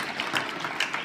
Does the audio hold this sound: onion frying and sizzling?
no